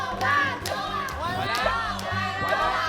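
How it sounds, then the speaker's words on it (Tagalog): A family team on the Philippine Family Feud game show shouts its answer together, a loud crowd of overlapping voices and cheering that runs the whole time with brief sharper cries. "Ang sigaw na Super Serena family, Jowa! Jowa!"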